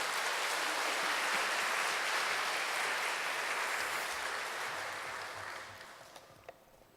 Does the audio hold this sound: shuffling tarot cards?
no